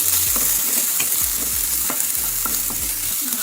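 Aloo matar curry (ghuguni) with ginger-garlic masala stirred in a hot pan: a constant loud sizzle with repeated scraping and knocking strokes of a spoon, close up and without speech.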